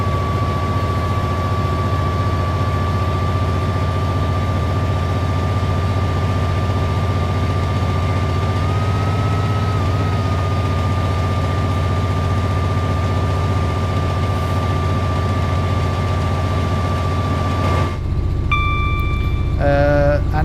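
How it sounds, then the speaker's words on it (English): An EMD diesel locomotive engine in the Train Sim World 4 video game, a loud, steady low rumble with a sustained tonal whine that holds for most of the stretch, then shifts and steps in pitch toward the end. "Hear the rumble of that EMD engine."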